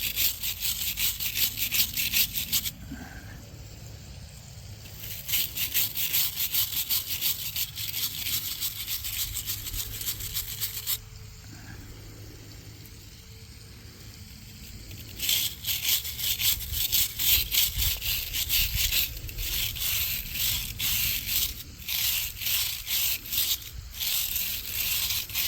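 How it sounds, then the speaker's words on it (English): A brush scrubs loosened rust off a Civil War relic after electrolysis, in bursts of rapid, close, raspy strokes separated by quiet pauses, several seconds each, with no talking. "I'm going to brush some of this away"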